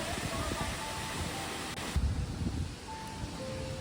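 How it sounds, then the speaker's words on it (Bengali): Steady broadband rush of a waterfall in a green, tree-lined spot in Australia, a continuous close hiss with a brief low thump partway through. "ঝর্ণার শব্দ শুনতে পাচ্ছেন?"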